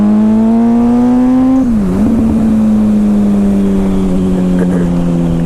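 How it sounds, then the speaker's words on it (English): A 2007 Suzuki GSX-R 600 sport bike engine pulls hard while riding on a cold, wet day, a loud close high-pitched whine that dips briefly at a gear change, then holds steady with some wind rush. "The bike's got plenty of power."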